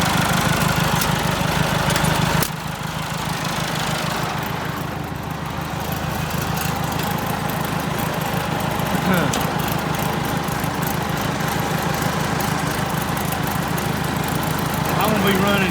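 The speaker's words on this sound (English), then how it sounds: "if you ever need to start an older diesel engine without a key, just short it out across the starter" An older diesel tractor engine idles steadily after being started without a key, a loud continuous low rumble with a brief dip in level early on, and some talk over it.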